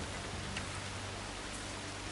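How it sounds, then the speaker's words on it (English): Rain falls steadily in the video game Horizon Forbidden West, a quiet, even, continuous hiss of drops with no voices. "Damn rain."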